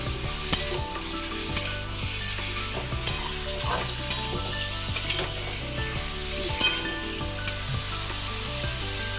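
Marinated chicken fries in a pan with a constant close sizzle, broken by repeated clinks and scrapes of a utensil stirring the pieces about every second, with no talking.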